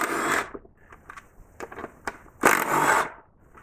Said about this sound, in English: there are two 8mm bolts securing it, so we're going to go ahead and remove those